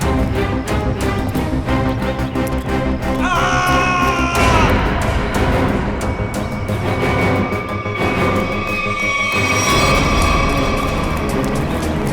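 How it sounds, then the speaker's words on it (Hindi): Loud, dense commotion of people yelling and screaming, with shrill cries rising over a rumbling, crowded background throughout. "ये आवाज, ये चीखने की आवाज कहां से?"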